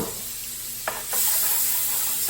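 Minced garlic sizzling in melted margarine gives a soft steady hiss, with a couple of brief scrapes and a swell in intensity partway through, close and with no talking.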